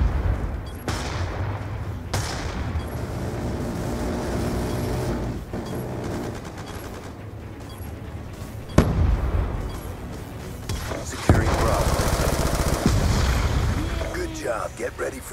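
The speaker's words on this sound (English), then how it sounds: "Friendly death machine spinning up" Rapid gunfire and blasts from Call of Duty Black Ops 2 multiplayer, with a Death Machine minigun among the weapons, rattling in bursts over a constant battle din while voices speak.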